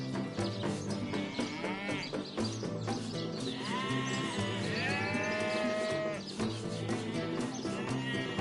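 Several sheep bleat in a video game, wavering overlapping cries one after another over a busy layered backdrop of game sound and music, fairly loud throughout.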